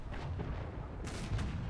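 A T25 tank cannon fires in War Thunder, a heavy boom followed by a rumbling tail, with a second broad blast near the end; loud, low and alone with no talk.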